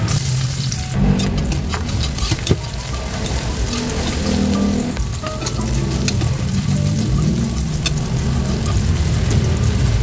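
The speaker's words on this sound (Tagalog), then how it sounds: "Lagay na natin guys yung ating bawang at mainit na yung ating mantika." Garlic frying in hot oil in a pan for chicken soup, a loud, dense, steady sizzle close up, with a few sharper crackles and scraping stirs through it.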